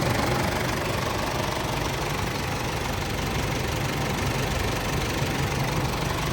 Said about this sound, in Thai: เสียงเครื่องนิ่มๆ เลยครับสตาร์ทขึ้นมา